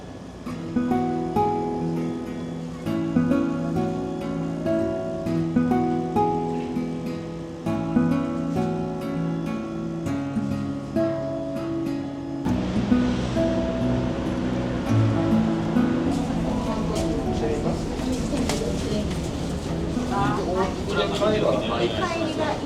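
On a ferry ride to Shodoshima from Takamatsu, music plays at first. Then a loud, continuous rush of churning water and engine noise takes over and carries on steadily to the end.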